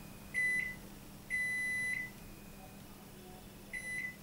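Control panel of a Capella BOC 625 combi oven beeping as buttons are pressed: three distinct electronic beeps, the first short, the second held longer, the third a quick double, clear and close over a low steady hum.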